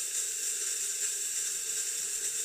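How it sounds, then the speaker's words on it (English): Steam wand of a Lelit Elizabeth espresso machine blowing steam into water in a jar, a constant high hiss that holds steady and fairly quiet throughout with no voices. "And I'm just going to let it steam."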